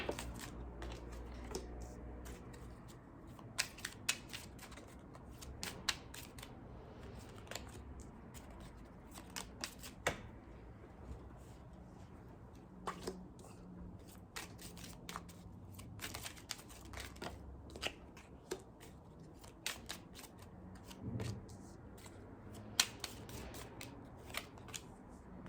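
Tarot cards handled and laid down for a Libra reading, with soft irregular snaps and slaps scattered through steady close-up rustling, no talking.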